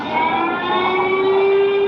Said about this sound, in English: With the sound of an air raid siren, staff at the store quickly directed customers to the basement for shelter.